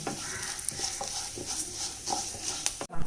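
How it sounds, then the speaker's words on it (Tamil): Lentils dry roasting on a low flame for coconut-dal thuvayal, a steady soft rustle and crackle with faint stirring scrapes throughout, close and even, no talk. "சிம்லேயே வச்சு வறுத்துக்கணும்"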